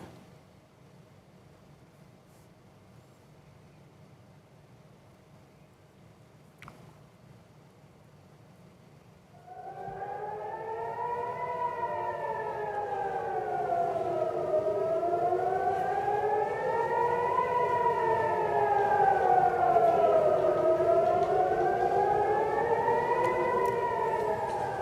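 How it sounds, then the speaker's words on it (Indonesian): Civil defense warning siren at Ben Gurion Airport in Israel during a missile attack, rising after quiet background to a loud, steady wailing tone that sweeps slowly up and down in a repeating cycle. "Sirene peringatan bahaya berbunyi, Saudara, di Bandara Ben Gurion, Israel saat ada serangan rudal dari Lebanon."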